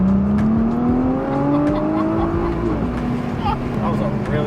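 Engine of a Nissan R35 GT-R accelerating, heard from inside the car as a steady, loud drone that climbs gradually in pitch, with faint clicks and road noise underneath.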